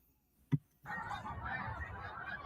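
A flock of birds honking like geese: one sharp honk, then a dense, continuous chorus of overlapping calls for the rest of the clip.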